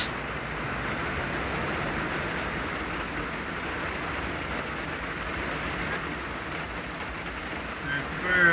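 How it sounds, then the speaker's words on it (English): Steady rain pours outdoors on a wet evening, a dense, even hiss of drops hitting surfaces that lasts the whole stretch, close and fairly loud, with no voices over it. "You're getting rained on."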